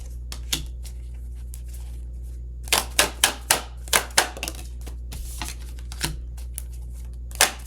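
Tarot cards are shuffled in a series of crisp riffling bursts, several quick flutters in a row with short pauses between, close and fairly quiet against a low steady hum, with no voices.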